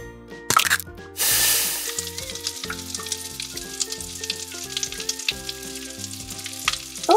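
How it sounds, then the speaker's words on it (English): An egg frying in a pan on a hot stove: a loud burst of sizzle as it hits the pan, then a steady, crackling fry with background music throughout. "Let's set the pan on top of the stove and turn up the heat. Next, let's grab our egg and crack it into the pan."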